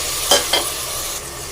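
Chopped tomatoes sizzle steadily in a hot pan with coriander, with a couple of quick stirring scrapes near the start over the continuous frying hiss.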